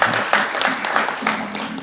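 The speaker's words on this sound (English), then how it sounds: "That is something that is worthy of a round of applause." A brief burst of audience clapping at an event announcing the Magic City Classic sponsorship, loud and close with uneven, overlapping claps and a hint of voices beneath.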